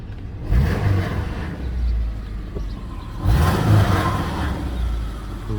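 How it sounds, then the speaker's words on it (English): A 2000 Subaru Outback with a 2.5 boxer engine, five-speed manual and a slight exhaust rattle revs in two rising swells, its low engine drone near and moderately loud, with no talk. "A little bit of exhaust rattle."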